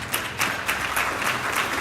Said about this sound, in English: I'm hoping that you're clapping for yourself